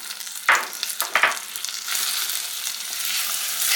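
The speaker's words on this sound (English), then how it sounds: "Get all of that stirred up in there really well." Butter, vanilla and baking soda stirred into hot peanut brittle candy at about 305 degrees, two sharp bursts of hissing followed by a steady foaming sizzle, close and loud.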